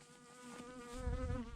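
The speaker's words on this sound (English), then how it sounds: "There's a bee on the camera." A bee buzzes on a camera, a close, steady droning hum that rises in loudness over a second and a half, alone without talk.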